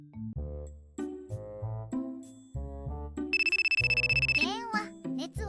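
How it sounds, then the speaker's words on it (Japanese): A telephone rings with a rapid, pulsing electronic tone lasting about a second, set amid melodic background music and a voice speaking. "電話"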